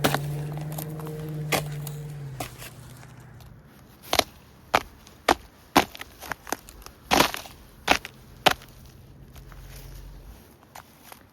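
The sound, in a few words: foot stamping on frozen river ice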